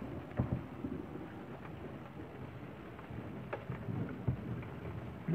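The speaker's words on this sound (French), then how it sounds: "Orage fort, évidemment." Steady rain patters with low rumbling thunder rolling in the background during a strong thunderstorm in Villers-Bocage, France, a few sharper cracks standing out, moderately quiet overall.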